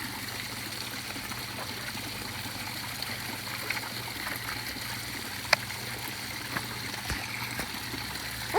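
A small homemade backyard waterfall trickles steadily into a pond, a soft continuous splashing wash with faint scattered clicks, heard from a short distance.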